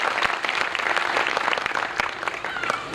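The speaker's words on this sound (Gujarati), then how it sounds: "જોરદાર તાળીઓના નાથી વધાવો." Audience applause at a dayro, a Gujarati folk music and storytelling gathering held at a Lohana community hall in Amreli, with dense steady clapping from a sizeable crowd throughout.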